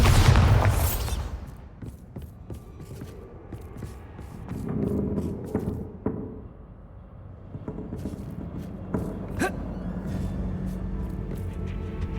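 A Bombarda spell goes off in Hogwarts Legacy with a heavy, booming blast at the start that fades into a low rumble, followed by scattered quieter game thuds and clicks.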